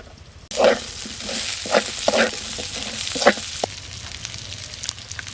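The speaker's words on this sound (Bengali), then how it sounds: "পেঁয়াজটা অর্ধভাজি হয়ে গেছে, এবার কাঁচামরিচ দিয়ে দিলাম।" Chopped onions fry halfway in a pan as green chilies go in and are stirred, a sudden burst of close, loud sizzling with scraping stir strokes, then the hiss settles quieter toward the end.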